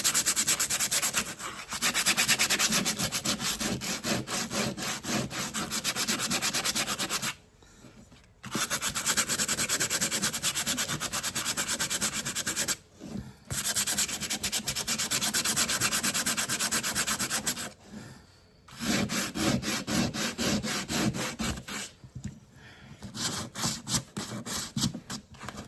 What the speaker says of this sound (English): We're gonna start by sanding off some glitter.